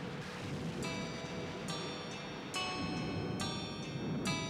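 Steady rain hissing on surfaces, continuous and moderately loud, with sharp periodic phone ringing tones cutting through at regular intervals.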